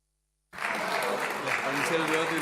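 Applause fills a municipal council chamber during a special session, starting abruptly and holding as a dense, even patter of many hands at moderate volume.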